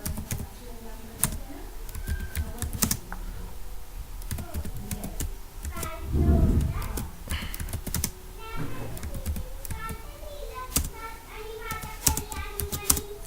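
Code is typed on a computer keyboard while writing an Android program: quick, irregular key clicks, some sharp and close, arrive in bursts with short pauses, and a soft voice talks at times in between.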